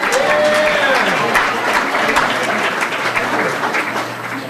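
Audience applause fills a community business awards evening, steady dense clapping from a room full of people for about four and a half seconds, with a faint voice briefly heard over it.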